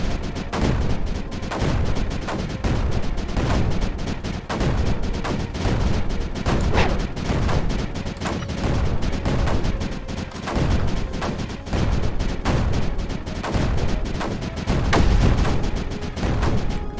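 Cannon fire in the video game Creeper World 4 booms again and again in a dense, continuous barrage, heavy blasts overlapping with a constant rumbling din.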